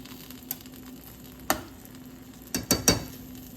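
A spoon scrapes and stirs chicken curry in a pan after a little hot water goes in, giving a few distinct knocks and scrapes over a faint background hiss, close and without any talk.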